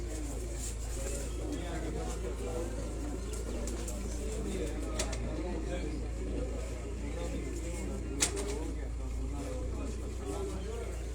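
A Superman breed pigeon owned by Malik Hasan coos softly and repeatedly over a steady low hum and background noise, with a few sharp clicks scattered through.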